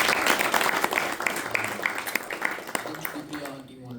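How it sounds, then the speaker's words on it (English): An audience at an Indian classical music and dance conference applauds after a lecture-demonstration, a dense wash of clapping that gradually thins out, with voices speaking over it toward the end. "Can we please give them another round of applause?"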